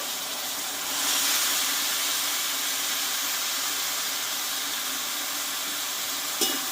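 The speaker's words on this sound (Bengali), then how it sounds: "মশলার ভিতরে এবার সেদ্ধ করে রাখা আমি মোচাটা ঢেলে দেব" Boiled banana flower tipped into a pan of frying spice paste with tomato, giving a steady, loud hiss of steam and sizzle that rises after the first second and holds throughout, with a brief knock near the end.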